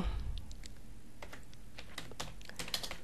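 Keys clatter on a computer keyboard as code is typed, scattered quick taps in irregular bursts, close and fairly quiet over a soft room hum.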